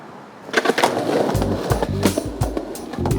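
Skateboard wheels roll down a street, clacking over pavement seams in a loose ka-dunk rhythm of repeated knocks, fairly close and moderately loud against outdoor background noise.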